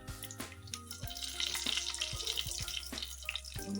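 Dried red chillies, whole cumin seeds and a bay leaf sizzle in a spoonful and a half of hot oil for tempering, a steady crackling hiss with scattered sharp pops.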